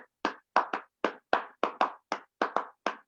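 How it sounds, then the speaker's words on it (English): Crisp hand claps tap out the basic rhythm of Yoruba music, about eleven sharp dry strikes in an uneven repeating pattern of paired and single beats, close and alone without any voice. "she can clap the basic rhythm which is heard in all Yoruba music"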